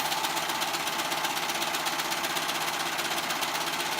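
A sewing machine stitches the side seams of an off-shoulder dress with a fast, steady, rattling mechanical hum that runs continuously and up close, with no voices.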